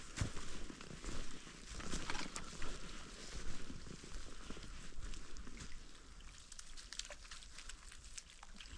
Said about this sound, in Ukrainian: Дощ іде сильний.